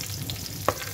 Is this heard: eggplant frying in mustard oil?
yes